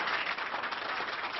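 Applause for Abdelaziz Bouteflika's speech, a dense, steady crowd clapping that fills the whole short stretch without voices, slightly muffled as on an old archive broadcast.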